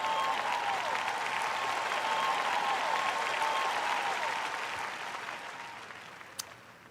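Sustained applause from a large church audience fills the hall, steady for several seconds before gradually fading away.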